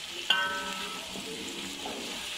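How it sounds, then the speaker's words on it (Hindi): Onions brown in hot oil with ginger-garlic paste over a high flame for mutton mince pulao, giving a steady close sizzle that opens with a sharp clink. "हाई फ्लेम पर ब्राउन करें प्याज में"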